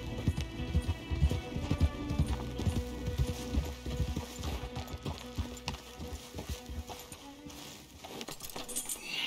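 Horse hooves clip-clop steadily in Red Dead Redemption 2, a brisk, continuous trotting rhythm of hard hoof strikes over a dense game soundtrack and ambient bed, fairly loud throughout.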